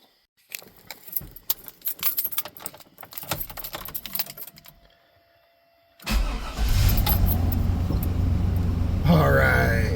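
Keys jingle and rattle close by for several seconds, then after a brief pause a car engine cranks and catches right after a crankshaft position sensor replacement, settling into a steady, loud idle.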